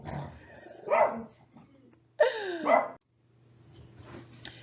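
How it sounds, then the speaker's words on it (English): A pet dog named Choo Choo barks at a mail carrier in two loud bursts of excited barking, close by, with brief quiet between them and a faint trailing yip at the end. "the mailman's here, and my dog's going to bark"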